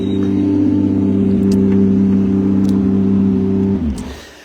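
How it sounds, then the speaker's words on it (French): Porsche rally car finishing a special stage at night during the Rallye des Grands Fonds, a loud, close, steady engine drone held at high revs before it drops away near the end, with no voices. "Simon Jean-Joseph et Patrick Pivato qui sont en train d'en terminer avec la Porsche frappée du numéro 1"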